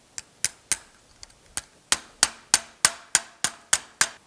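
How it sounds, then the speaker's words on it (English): Sharp metallic hammer strikes on sheet metal for a custom GTO hood scoop ring out one after another, sparse at first and then settling into a steady, quick rhythm, close and loud. "So yeah, a lot more hammering to go."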